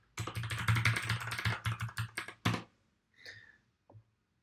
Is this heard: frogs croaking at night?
no